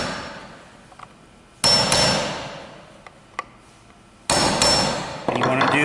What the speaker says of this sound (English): you want to take your nail set, and you want to set the nails below the surface